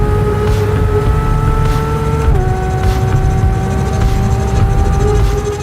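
A 2022 Porsche 911 GT3 engine drones steadily while driving, a sustained tonal hum with a pitch step down partway through, as if shifting gears, loud and continuous with no talking.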